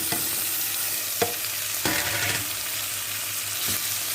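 Chopped onions and tomatoes fry in a pan for a Punjabi radish bhurji, with a steady close sizzle and a few distinct scraping stirs of the spoon through the mixture.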